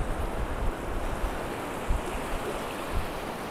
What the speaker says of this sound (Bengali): দেখছো কত দূর চলে আসছে ঢেউ